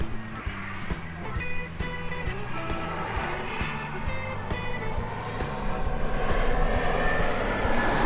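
A propeller or jet airplane passes overhead near an airfield, a steady broad engine drone that grows slightly louder toward the end, with no talking.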